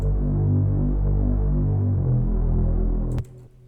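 Two layered synthesizers, a deep bass patch plus a brighter rising layer, play a thick throbbing bass line in pulsing sustained notes, loud and steady, then cut off abruptly just before the end.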